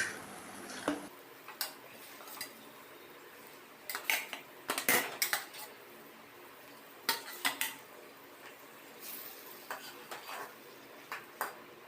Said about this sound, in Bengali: এখন আমি এটার মধ্যে মাছগুলো সব দিয়ে দেবো